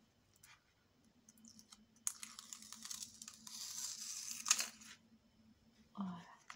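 Adhesive tape is peeled and torn off during a denim mini album craft project, giving a few close crackling tearing bursts between quiet pauses and small handling noises.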